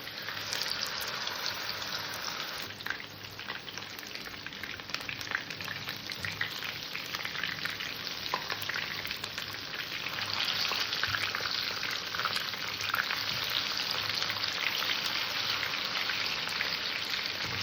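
Chicken legs fry in hot oil over a low gas flame, giving a steady, close sizzle and crackle that runs the whole time and swells slightly louder toward the end, with no voices.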